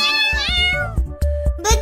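Cartoon cat meowing loudly in several drawn-out, wavering cries, overlapping with a character's animated voice and short thumping effects.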